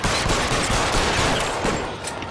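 Rapid bursts of gunfire in the LA Noire video game, loud and dense, with overlapping shots crackling continuously throughout and no pauses.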